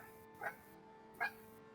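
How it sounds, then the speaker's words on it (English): A dog gives two short, distant barks about a second apart over a steady low hum, quiet and separated by near-silence. "About the dog that's barking?"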